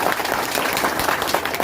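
Dense crowd applause at a rally welcoming a BJP candidate, steady and loud throughout with no gaps, many hands clapping together.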